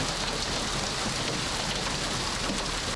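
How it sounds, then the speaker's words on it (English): Hail from pea to softball size pounds down fast and hard outside a TV station in North Knoxville at night, a dense, loud, unbroken clatter with no voices. "Hail ranging in size from peas to softballs pounded Knoxville tonight."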